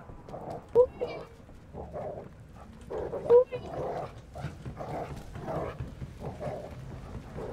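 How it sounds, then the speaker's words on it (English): Dog barking in the video game Call of Duty Cold War Zombies on the Die Machine map, a few sharp barks amid constant game noise while a player talks over it. "Somebody need to put their dog on a leash."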